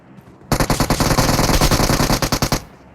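Automatic gunfire from the PUBG Mobile battle royale game erupts in a loud, rapid burst of about two seconds, with closely spaced shots firing in a fast, steady rhythm before cutting off.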